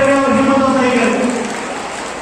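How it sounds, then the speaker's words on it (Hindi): Children at an Islamic quiz and Natiya competition inauguration function clap loudly in a sustained, steady burst of applause that fades slightly toward the end. "तमाम बच्चों से गुजारिश है जोरदार तालियों के साथ इस्तेमाल करें"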